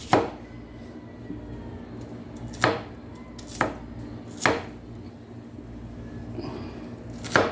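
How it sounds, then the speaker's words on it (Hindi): Onions chopped with a knife on a cutting board, five sharp, distinct thuds spaced irregularly over several seconds, close and clear against a quiet background hum, with no talk. "बाकी प्याज को भी हम कुतर देंगे।"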